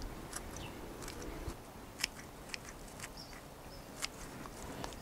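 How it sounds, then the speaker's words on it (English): Garden plants being harvested by hand before planting cherry tomatoes, with sparse crisp snaps and small crunchy plucks over quiet outdoor ambience, occasional faint bird notes. "I'm just going to harvest these up to have a little snack later."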